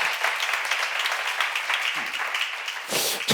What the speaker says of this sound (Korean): 박수로 하지